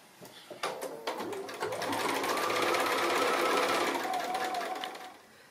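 A sewing machine stitches a seam on a small pinwheel pin cushion quilt block. A few hesitant clicks start it off, then it runs in a fast, steady whir for several seconds before slowing to a stop.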